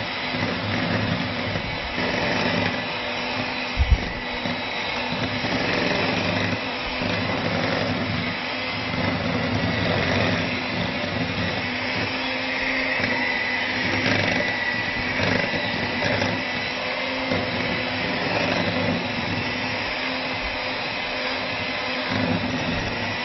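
An electric mixer beating 75 grams of fresh butter with 50 grams of icing sugar at medium speed, a steady whirring motor drone with a faint rhythmic churning that holds evenly throughout, close and with no talk.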